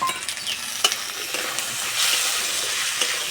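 Small chopped potato pieces go into a hot frying pan with soaked masoor dal and are stirred, giving a bright continuous sizzle with scraping spoon strokes, close and loud, and no talking.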